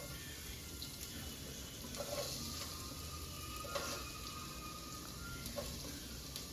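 Sliced onions frying in a pan for biryani, a steady close sizzle with occasional stirring scrapes and no voices over it.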